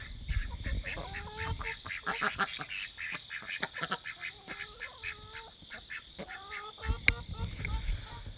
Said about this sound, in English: the ducks will sit out there and squawk until the hens come out